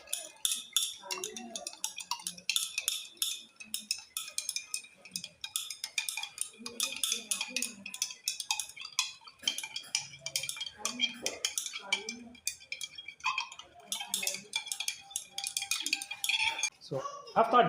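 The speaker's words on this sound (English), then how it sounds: "So after dissolving very well, after stirring it, everything has dissolved." A chemical solution is stirred in a glass container to dissolve it, a metal or glass rod clinking and ticking rapidly and continuously against the sides, close and bright with irregular clusters of taps.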